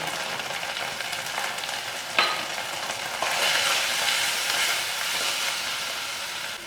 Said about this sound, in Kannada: ಚಟಪಟ ನೋಡಿ, ಮೆಣಸು ಹೊಡೆಯೋದು ನೋಡಿ.